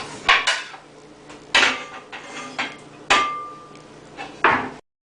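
Chopped tomato and onion tossed into a bowl, giving four separate clattering bursts of food and utensil knocking against the bowl, close and fairly loud, with quiet gaps between them.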